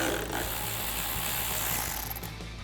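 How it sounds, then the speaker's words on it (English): A ratchet with a 10mm socket loosening a hose clamp on a Toyota Tacoma during a cold air intake install, giving a brief burst of rapid, close mechanical clicking over a constant low hum. "First, let's loosen this clamp with our 10mm socket."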